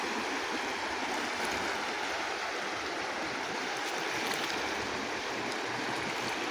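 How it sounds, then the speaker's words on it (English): Rapids on the Lewis River rush over large rocks in a steady, loud broadband roar of churning water, close by and unbroken throughout, with no voices. "the rapids are getting bigger now that the river's going down and there's bigger rocks down there"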